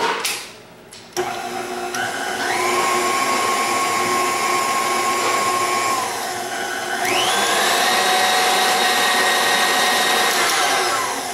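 A KitchenAid stand mixer runs steadily for about ten seconds with a continuous whirring motor hum, shifting pitch upward partway through as the speed changes, close and loud with no talking.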